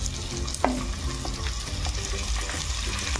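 Tomatoes sauté with ginger-garlic paste in a pan for a Konkani-style dry prawn masala, giving a steady close sizzle with an occasional spoon clink and scrape as the mixture is stirred.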